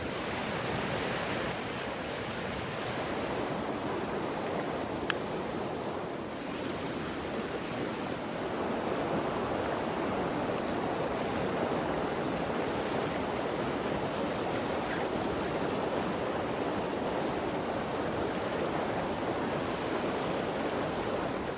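Steady broadband rushing of a river flowing beside a backcountry campsite at night in Utah, a continuous even wash of water with no talk, close and moderately loud, with one brief click about five seconds in.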